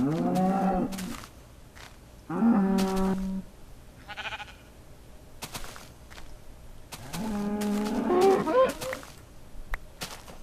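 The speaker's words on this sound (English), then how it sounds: "It's a cow." Cow mooing in the Minecraft video game, three separate low moos spaced a few seconds apart, clear and near, with faint softer sounds in between.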